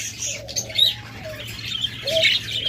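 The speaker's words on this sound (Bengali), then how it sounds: "অনেকগুলো জাপানিজ বাজরিগার রয়েছে, একদম ব্রিডিং পেয়ার" Japanese budgerigar breeding pairs give thin, high chirps and short warbles over a low background hum, with a few brief flutters, moderately close and not loud.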